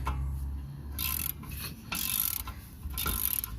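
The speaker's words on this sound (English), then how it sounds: "It's a ratchet." A ratchet is worked on the rear hub of an MK4 GTI 1.8T, giving three close bursts of rapid clicking, each roughly half a second long with short pauses between them.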